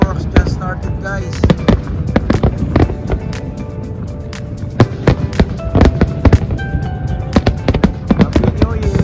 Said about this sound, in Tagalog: Now the fireworks just started, guys.